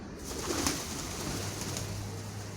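Pigeons coo softly amid a noisy outdoor background, their low murmuring calls faint and partly masked by broadband hiss.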